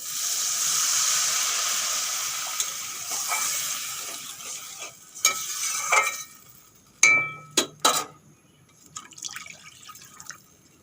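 Water poured into a pan of oil-fried spice masala for a soybean and chana dal curry: a steady frying hiss fades, then a few sharp, loud splashing bursts come close together and settle into quieter bubbling.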